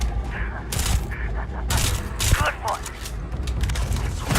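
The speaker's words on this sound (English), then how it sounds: "Bro, I'm shooting Andrea in the face" Game gunfire in Starfield, loud, rapid bursts of shots and cracks in a firefight, with a voice speaking over the combat.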